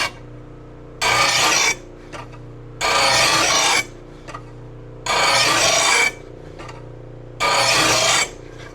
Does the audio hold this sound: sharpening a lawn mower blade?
yes